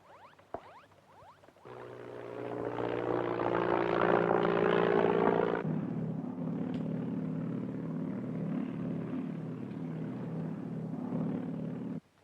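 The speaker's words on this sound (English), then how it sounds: "It seems like a plane circling over here, just off the coast." A propeller airplane drones steadily as it circles overhead off the coast, a loud sustained hum that swells and then settles into a slightly lower, pulsing tone before cutting off abruptly.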